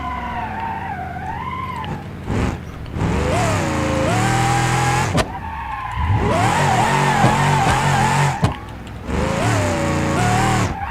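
A drifting car with its engine revved hard in repeated rising and falling bursts, close and loud, with short breaks between runs and hints of tire squeal.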